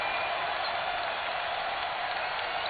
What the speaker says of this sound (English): Crowds right back into it.